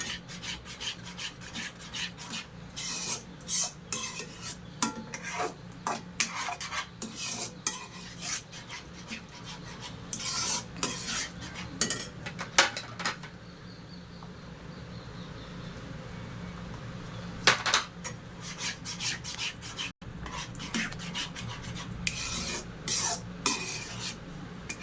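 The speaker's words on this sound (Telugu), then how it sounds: "మధ్యలో ఇలా నెయ్యి యాడ్ చేసుకుంటూ తిప్పుకోవాలండి." Bombay Karachi halwa being stirred in a pan as ghee is added, giving a steady rasping scrape of a spoon against the pan in rapid repeated strokes, close and fairly loud, with a brief pause midway.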